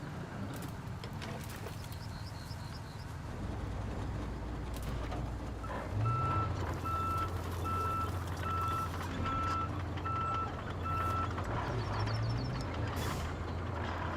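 A stump grinder work vehicle in RoadCraft backs up, its reversing alarm giving steady repeated beeps over a continuous low diesel engine rumble, with a brief air-brake hiss.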